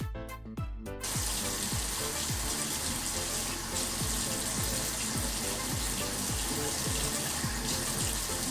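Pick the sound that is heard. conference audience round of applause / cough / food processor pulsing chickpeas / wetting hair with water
wetting hair with water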